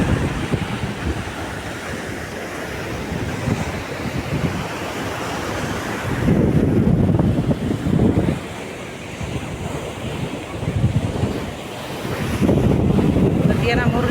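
Ocean waves and wind at Kaup beach, with surf washing in surges that swell and fade, while gusts buffet the microphone in a loud, rough roar.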